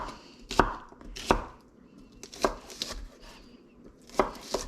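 Fresh, tender asparagus spears sliced diagonally with a knife on a cutting board, giving four crisp, separate chops spaced about a second apart, close and clear with no talking.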